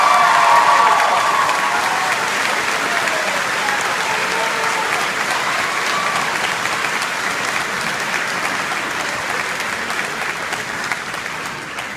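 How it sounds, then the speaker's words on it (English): Sustained applause from a high school graduation audience at Reedsburg Area High School, a dense wash of clapping that swells briefly at the start and then holds steady and loud throughout. "thank you for the applause"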